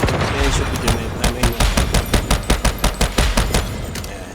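Grenade blasts and rapid gunfire from the survival shooter Once Human, a loud run of a dozen evenly spaced sharp bursts over a rumbling low background, with no talk.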